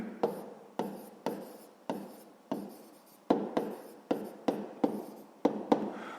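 A pen scratches out a sixth-grade math check on paper in rapid repeated strokes, each burst starting sharply and fading, close and quiet with no talk.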